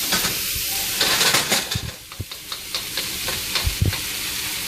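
Garlic fries in oil in a stir fry pan, giving a steady close sizzle and hiss broken by sharp clicks and scrapes of stirring.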